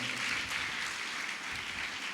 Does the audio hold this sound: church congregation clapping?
yes